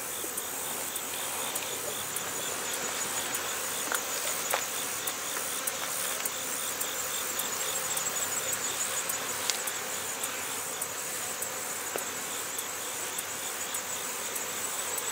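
A honeybee colony hums steadily in an open hive during a fall inspection of combined colonies, a continuous moderate drone of many bees with faint individual buzzes passing nearby and no voices.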